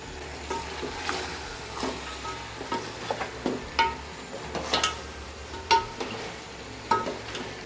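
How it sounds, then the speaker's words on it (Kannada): Country chicken fries in an open pan on a high flame, giving a steady soft sizzle broken by repeated scraping stirs at an uneven rhythm, close and moderately quiet. "ನೀರು ಸಮೇತ ಚಿಕನ್ನ ಹಾಕ್ಕೊಂಡಿರೋದ್ರಿಂದ ಹೈ ಫ್ಲೇಮಲ್ಲಿ ಒಂದು ಸ್ವಲ್ಪ ನೀರೆಲ್ಲ ಕಡಿಮೆ ಆಗೋ ತನಕ ಡೈಲಿ ಇದು ಓಪನ್ನಾಗೆ ಫ್ರೈ ಆಗಲಿ"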